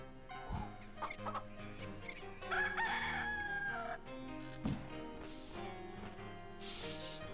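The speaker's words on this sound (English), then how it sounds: "until the first roosters crow" Rooster crowing in Discworld 2, several crows and clucks spread across a game soundscape with background music, one prominent drawn-out crow in the middle and shorter calls around it.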